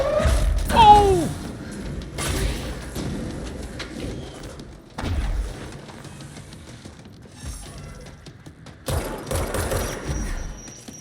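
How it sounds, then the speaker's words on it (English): Explosions and gunfire in the video game Control, several bursts of blasts spread across the clip with brief quiet gaps between them, mixed with other in-game sound effects, and someone talks briefly over them. "That's a lot of grenades."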